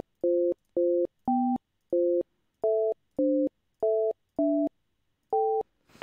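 Phone-line tones sound while a Blog Talk Radio call-in line connects: nine clear, loud electronic beeps of shifting pitch come in a regular rhythm, with brief silences between them.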